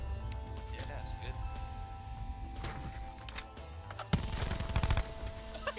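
Automatic gunfire from a shooter in Call of Duty Blackout, with a sustained burst of rapid shots crackling over steady game background noise near the end.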